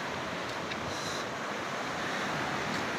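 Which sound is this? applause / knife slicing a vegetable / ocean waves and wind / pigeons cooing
ocean waves and wind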